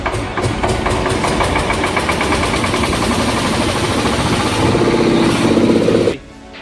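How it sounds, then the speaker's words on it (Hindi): A single-cylinder stationary diesel engine in a mechanic training workshop runs steadily at close range, its loud, even rapid thudding chug holding for about six seconds before cutting off abruptly. "स्टेशनरी इंजन होता है सिंगल सिलेंडर का जो कोई स्टॉक होता है। इसको स्टार्ट करके"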